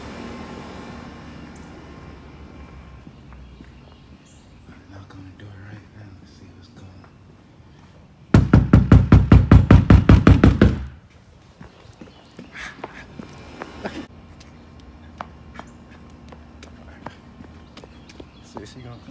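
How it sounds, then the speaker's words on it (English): Knuckles rap rapidly on a door in one close, loud burst of about a dozen quick knocks, with people whispering and talking quietly before and after. "About to go knock on her door right now."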